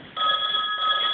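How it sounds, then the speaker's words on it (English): A telephone rings in a steady, continuous electronic tone that starts just after a brief silence and carries on loud and close to the end, with no voices. "letting that phone ring all the time"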